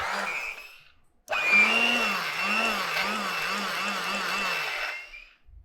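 A small electric motor of a Rotex RHM200-K paint mixer whirs steadily for several seconds after a brief start, its pitch wavering slightly, loud and close with no talking.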